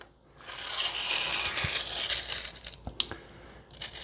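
A kitchen knife is rubbed on the 180-grit red side of a Worksharp sharpening puck, a close gritty scraping swell followed by a few sharp clicks and taps.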